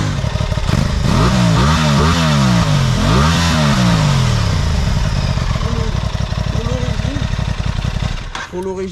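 Aprilia RS660 A2 motorcycle from 2021 revving loudly with rising and falling engine sweeps, several throttle blips in a row before settling, with a rough, clattery tone close to the listener.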